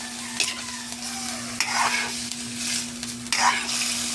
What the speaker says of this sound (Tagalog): iniginigisa natin sa luya para mawala yung langsa niya mga lods